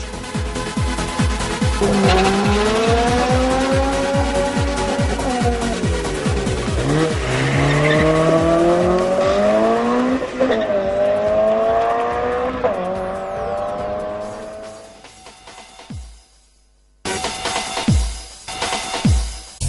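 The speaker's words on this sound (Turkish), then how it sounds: "Beklenen an geliyor ve ilk araç start bölgesine doğru hareket ediyor." A drag racing car rolls toward the start line, its engine loud and revving with long screeching tire squeals that rise and fall, then a brief lull before the engine roars again.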